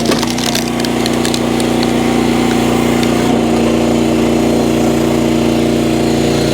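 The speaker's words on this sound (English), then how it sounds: "I think I'm gonna have to fire up the chainsaw here" A chainsaw runs loud and close for cutting firewood in winter, a steady droning engine hum with a few crackling woody snaps early on.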